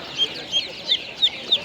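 Small chicks for sale at an open-air animal market, peeping in short bright calls about every third of a second, close by and fairly loud.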